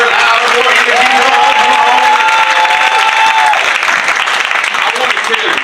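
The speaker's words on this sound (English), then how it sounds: "Can we give her a round of applause?" An audience at a school district town hall on school safety applauds, dense and loud clapping continuing steadily for several seconds with some cheering and voices mixed in.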